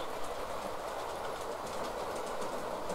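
A Hornby Turbomotive model locomotive runs along its track with a continuous fine whirring motor hum and faint rhythmic clicking of the wheels, heard close and steady.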